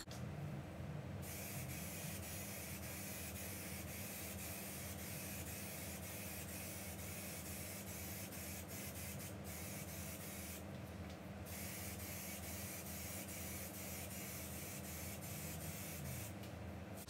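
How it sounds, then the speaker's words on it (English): Clear coat paint sprays onto a custom car front bumper in a steady, close hiss, broken by a few short louder bursts of the spray gun near the start, middle and end. "And now we're just going to spray some clear coat."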